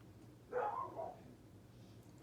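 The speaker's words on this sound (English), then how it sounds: "And my dog barks as usual." A dog gives a single short bark indoors, heard at moderate distance and fairly faint against a quiet room background.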